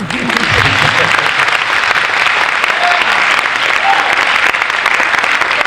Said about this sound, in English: You can clap if you'd like.